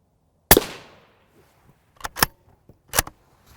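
M855 rifle rounds fired at a Prime Armor Level III UHMWPE plate: one loud, sharp crack with a ringing tail, then a close pair of cracks and another single report.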